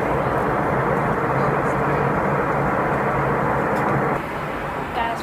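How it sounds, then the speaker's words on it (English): Steady, loud airplane cabin roar during flight, a broad continuous engine and air rush that drops slightly in level near the end, with no talk. "Guys, we're still on the plane."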